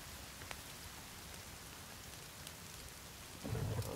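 Steady rain patters in the video game The Forest, with faint crackles throughout and a louder low rumble of thunder building near the end.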